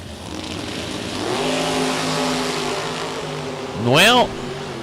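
A Corvette race car at a drag race revs hard, its engine note climbing in rising sweeps over a steady crowd-and-engine background, ending in a short loud, high-pitched burst.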